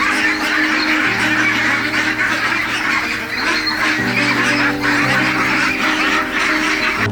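Hybrid ducks on a duck farm quack and honk continuously as a dense, loud flock, with many overlapping calls throughout.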